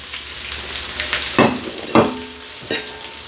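Onions fry in a pan with a bright, close sizzle, broken by three sharp clinks as a spoon stirs them.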